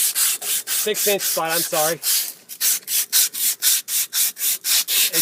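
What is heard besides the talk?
sandpaper rubbing old corroded copper pipe clean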